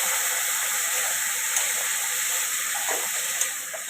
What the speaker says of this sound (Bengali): মশলাগুলো কষবে